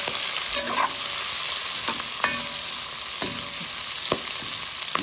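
Onions sizzling in hot oil in a pan, a steady hiss of frying broken by several sharp scrapes and clinks of a spoon stirring, close and clear with no voices.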